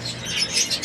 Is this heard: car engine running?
no